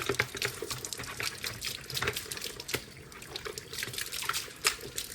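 Water runs and splashes steadily while chicken water cans are washed on a poultry farm. The sound is a continuous, fairly quiet gush with small clatters and drips and no talking.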